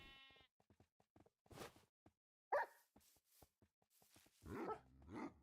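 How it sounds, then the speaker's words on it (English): A dog barking in the Minecraft video game, with short, sharp barks and whines repeated several times, mixed with other game noises and sheep-like bleats. "Look, it's a dog."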